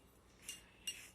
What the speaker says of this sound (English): Stir it with a non-metallic utensil.